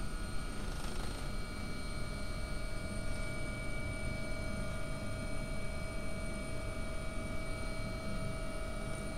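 The AW-139 helicopter in the X-Plane 11 flight simulator, flying a London Air Ambulance route with rotor RPM at 102%, gives a steady, even rotor and engine drone with a constant whine that never lets up.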